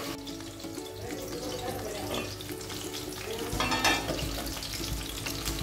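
Bacha fish frying over a high flame, a steady low sizzle with faint clinks and a brief watery rush of movement near the middle.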